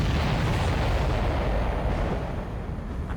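A supply ship explodes in the Ace Combat 7 video game, a dense, continuous roar of rumbling blasts filling the clip loudly with no gaps and slowly easing toward the end.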